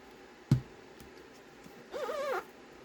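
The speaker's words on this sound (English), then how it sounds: "Oh, sorry about that noise. Ah, squeaky noise." A faint, short squeak sounds at the desk during junk journal crafting with glue and glitter. It rises briefly and wavers for under half a second, and a dull tap comes just before it.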